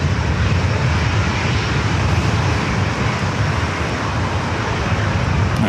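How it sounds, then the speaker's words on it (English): A Boeing 737 MAX 9 airliner in Seattle Kraken livery moves at LAX on its way to Portland. Its engines give a loud, unbroken roar that holds steady and close the whole time, with no voices. "Seattle Kraken livery, flight 1315 heading to Portland, a 737 MAX 9 going to be heading over here to 24 right"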